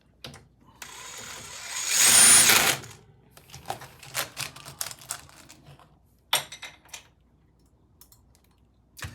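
Screws being driven into a sound-system audio rack: a burst of whirring from a power driver, followed by scattered clicks, taps and small metallic knocks from close by.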